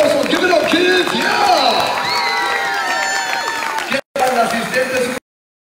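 An audience at a school-district winter festival claps and cheers loudly for the superintendent, with whoops and shouts mixed in, then the noise cuts off abruptly.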